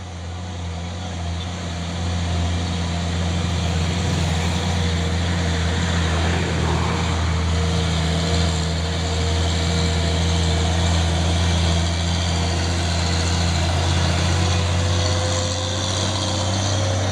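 An orange 6x4 truck gives a loud, steady low engine drone that holds at an even level from start to finish, with no clear rise or fall of a pass-by.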